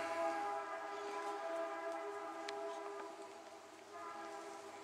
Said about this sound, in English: Hear the train in the background.